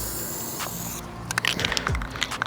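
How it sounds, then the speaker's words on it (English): Aerosol spray can used during interior upgrades on a road trip vehicle: a steady hiss for about the first second, followed by scattered clicks, scrapes and handling noises nearby. "you have to be spraying vertically"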